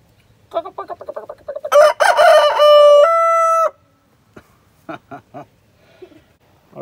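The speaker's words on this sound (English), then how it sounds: "Are you gonna cock-a-doodle-doo or what?" A rooster crows loudly and close by, a long drawn-out cock-a-doodle-doo, with a few short clucks and chicken noises before and after.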